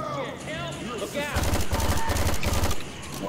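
Rapid automatic gunfire in the video game Left 4 Dead 2, a loud burst of repeated shots lasting over a second, with speech and game voices before it.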